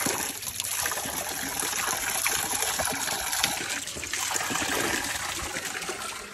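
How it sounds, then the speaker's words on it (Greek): Water pours steadily from a pipe back into a river, a loud continuous rushing gush close by with little variation throughout. "Και το νερό ξαναφεύγει στο ποτάμι."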